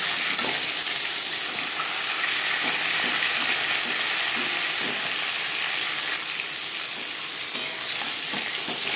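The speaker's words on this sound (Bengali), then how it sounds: "একটা সাইড ভাজা হয়ে গেলে অপর সাইডটা উল্টে দেবো।" Silver carp fish frying in oil in a pan, a steady, loud, continuous sizzle and crackle with occasional light spatters, close by and without any talking.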